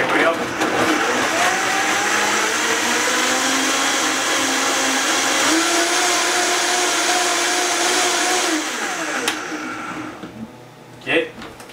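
A blender churns garlic aphid spray with essential oils, starting on low variable speed with a steady whirring motor, then stepping up in pitch partway through before winding down and stopping near the end, loud and close.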